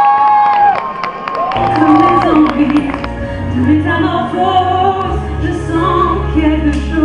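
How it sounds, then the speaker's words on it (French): A crowd at a 2014 school end-of-year party claps, cheers and whoops, with children's shouts mixed in. Sustained musical tones run underneath, and the noise stays loud and continuous. "Applaudissements, s'il vous plaît."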